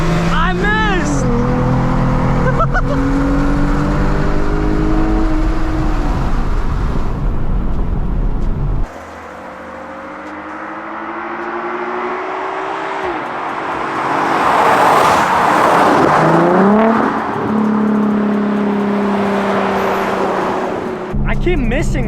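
Infiniti Q50 racing, its engine revving up through the gears in rising sweeps with sudden drops at each shift, loud and close inside the car, while people talk over the engine.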